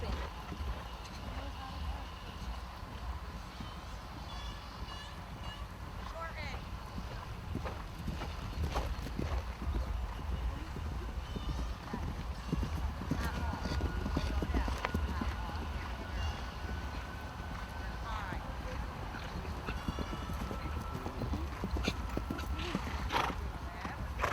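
Horses canter around the ring at an open horse show, with a steady clip-clop of hooves on soft ground, an occasional whinny and an announcer's voice carrying over a busy outdoor background.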